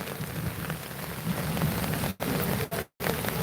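Steady rain falls in Kurigram's Phulbari, a dense continuous patter on surfaces close by, briefly cut off twice near the end.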